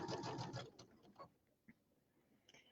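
Sewing machine stitching a pillow seam for a settee cushion, a close steady mechanical whir for under a second, then a few scattered clicks and small handling sounds, faint overall.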